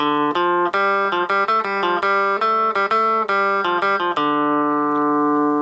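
A cigar box guitar plays a surf riff at full speed, a rapid run of sharply picked, bright twangy notes close up, ending on a long ringing sustained note.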